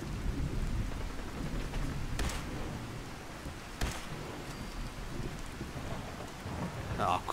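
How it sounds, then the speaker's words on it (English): Steady rain pours in Fallout 4, a dense continuous hiss with two rumbles of thunder cracking through midway and a brief higher burst near the end. "Damn it, I can't see anything in this rain."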